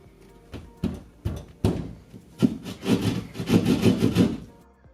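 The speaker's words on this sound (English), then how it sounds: "Then use our drywall saw to cut the hole into the wall." A handheld drywall saw cuts an outlet hole into a wall, a series of rasping back-and-forth strokes that start sparse and build into a steady, louder rhythmic sawing, close up with no talking.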